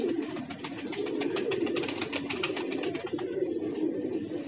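Soft, steady cooing from pigeons, including gajri, hawai kalsari and chapdi females, rolls on continuously at a faint, distant level with no talk.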